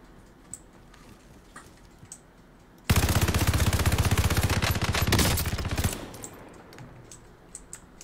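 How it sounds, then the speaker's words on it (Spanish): A sustained three-second burst of rapid automatic gunfire in the video game Warzone, loud and close, set between quiet stretches of faint clicks and distant pops. "Sí, hay alguien más disparando."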